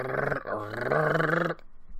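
A voice imitates a dog's growl, a loud, rough, sustained snarl for about a second and a half that then breaks off into quiet.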